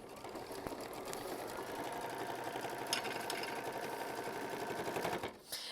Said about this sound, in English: you are going to tack that down with machine stitch step 15